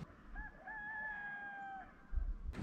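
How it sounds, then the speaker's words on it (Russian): A rooster crows once in a long drawn-out call, fairly close, over a low background rumble, followed by a brief thump at the end, on the Greek island of Skiathos. "проснулись от того, что здесь петухи кричат"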